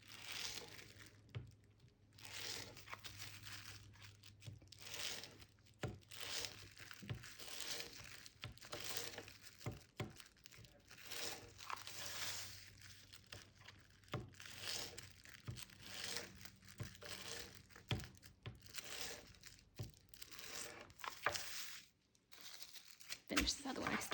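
A plastic bag being sliced into strips with a rolling fabric cutter to make plarn gives close, quiet crinkling and rustling. Crisp little crackles and snaps recur throughout in an irregular rhythm.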